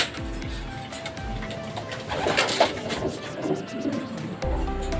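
Racing pigeons arriving at a loft cooing nearby, soft low repeated coos over background rustle and faint mechanical hum, with a burst of fluttering midway.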